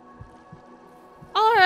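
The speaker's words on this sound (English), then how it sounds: "I can hear a heartbeat somewhere" Faint, low heartbeat thumps pulse at a slow, uneven rhythm in the Hollow Knight video game, soon overtaken by a loud voice.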